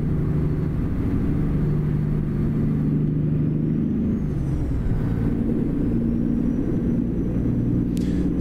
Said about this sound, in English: this truck sounds nice